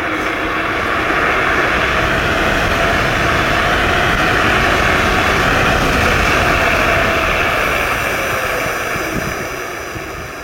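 A Laotie Ti30 electric scooter accelerating toward high speed, giving a steady, loud rushing whine with heavy wind roar that builds and holds, then eases slightly at the end, with no talking.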